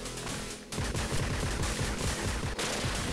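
Rapid gunfire from a Judge Dredd video game, a dense burst of loud, close shots with a brief pause before a second sustained stream of rattling rounds.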